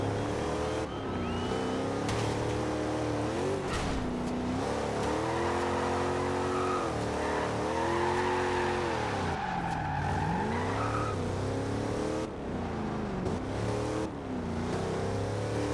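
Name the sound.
muscle car engine revving and skidding in video game Forza Horizon 2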